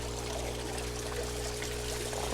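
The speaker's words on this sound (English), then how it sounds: "That's my water flow for this bed." Water flowing steadily into an aquaponics grow bed with Manoa lettuce, a continuous close pouring rush with a low steady hum underneath and no talking.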